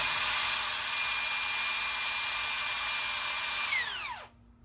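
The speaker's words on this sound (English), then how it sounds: "we're going to go ahead and drill the holes" A high-pitched power drill whines steadily at full speed drilling holes, then spins down and stops, close and loud.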